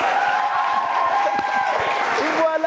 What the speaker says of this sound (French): Applaudissez si vous pensez que c'est bon.